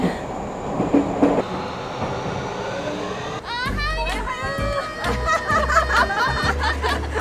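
A train in Tokyo rolls along the rails with a steady rumble, low thumps and squealing tones, while people talk and laugh nearby.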